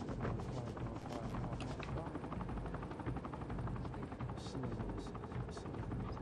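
A helicopter in a video game, its rotor thudding in a fast continuous pulse at moderate loudness with bursts of gunfire, while a player's voice talks over it.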